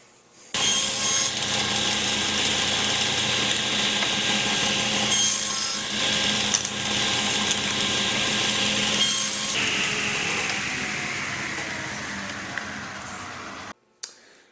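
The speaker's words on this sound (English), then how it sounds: "make a tiny kerf on the top and the bottom of this box" A small kerf being cut into a copper pipe box with a saw, a steady loud rasping grind running continuously for over ten seconds, easing off slightly before stopping abruptly, with no voices.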